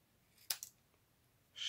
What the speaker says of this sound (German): Und dann nehme ich noch eine Schere, schneide mir das hier so